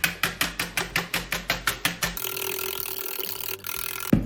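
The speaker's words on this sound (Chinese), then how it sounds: "然后继续打发" Eggs for cake batter are whisked by hand in a quick, even rhythm of about a dozen close strokes, then the strokes stop and leave a soft hiss.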